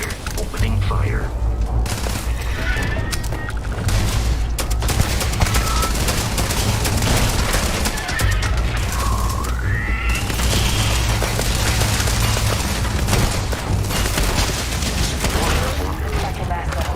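Sustained gunfire in the space shooter game Starfield, bursts of shots layered with booms and mechanical clatter, loud and continuous throughout, with voices talking over the fight.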